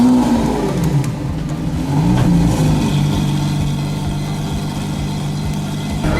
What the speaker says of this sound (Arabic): هيدا صوت اللامبورجيني الحقيقي.